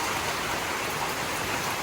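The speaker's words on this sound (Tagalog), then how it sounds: "Lumakas na lalo ang ulan." Heavy rain falls in a dense, steady hiss, loud and continuous with no voices.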